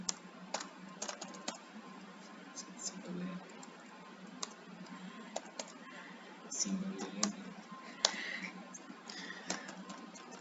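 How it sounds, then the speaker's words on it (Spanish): A password is tapped out on a computer keyboard in a quiet room, with soft, irregular keystroke clicks spread across the clip and a few brief louder taps. "Ingresamos la contraseña."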